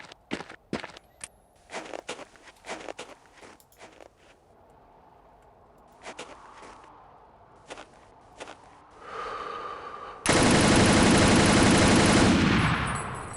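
Machine gun fire in a video game, short bursts of sharp rapid shots in the first seconds and again around six to seven seconds, followed by a swelling rush and then a loud sustained roar to the end.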